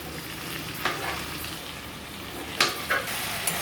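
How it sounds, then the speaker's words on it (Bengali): Goat meat curry frying in a pan while being stirred, a steady close sizzle with a few sharp scrapes and clatters of the spoon against the pan toward the end, no talking. "তো এরপর একটু নাড়াচাড়া হচ্ছে"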